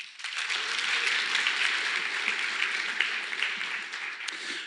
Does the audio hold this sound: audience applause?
yes